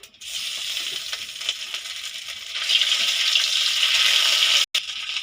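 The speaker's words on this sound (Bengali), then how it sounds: "তো কড়াইটা গরম হয়ে গেছে, আমি এর মধ্যে দিয়ে দেবো তেল। তো এর মধ্যে দিয়ে দেবো তেজপাতা আর শুকনো লঙ্কা, তারপর দিয়ে দেবো আদা বাটা" Bay leaf, dried chilli and ginger paste fry in hot oil in a pan, a steady, close hiss of sizzling that swells louder partway through, broken by a short gap near the end.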